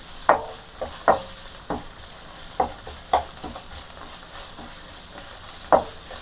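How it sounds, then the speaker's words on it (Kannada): Ginger garlic paste frying in a pan, with a steady sizzle under a hiss and sharp spoon-scraping stirs every second or so. "ಈಗ 1 ಟೇಬಲ್ ಸ್ಪೂನ್ ಶುಂಠಿ ಬೆಳ್ಳುಳ್ಳಿ ಪೇಸ್ಟ್ ಹಾಕಿ ಹಸಿ ವಾಸನೆ ಹೋಗುವವರೆಗೂ ಚೆನ್ನಾಗಿ ಫ್ರೈ ಮಾಡಿ"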